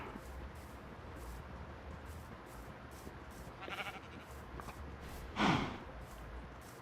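Minecraft sheep let out a faint bleat over quiet background noise, followed by a louder, nearer bleat about a second and a half later.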